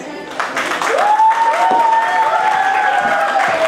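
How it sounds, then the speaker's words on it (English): An academy audience applauds for Aryan, a dense, steady clapping crowd that swells slightly after the first second and holds evenly, with a thin sustained tone ringing above the clapping. "Big round of applause for Aryan"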